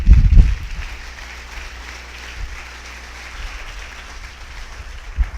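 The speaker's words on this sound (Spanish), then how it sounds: "Fuerte aplauso al Señor" A church congregation breaks into loud applause that swells and then thins to scattered clapping and a low murmur, with a fresh burst of clapping at the end.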